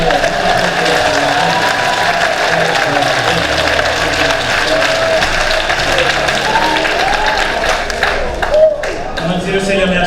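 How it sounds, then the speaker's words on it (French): A church congregation claps for the Lord during a service, steady dense applause filling the room for the whole stretch, with voices and crowd noise mixed in underneath. "Nous applaudissons le Seigneur."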